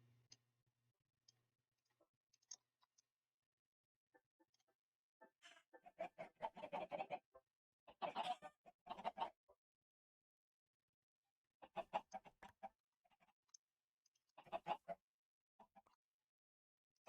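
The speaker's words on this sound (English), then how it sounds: "because we're going to kill an iron chicken" An iron chicken in the game Sky Odyssey clucks in short, quiet bursts of rapid clucks scattered over silence, with faint ticks between them and no talking.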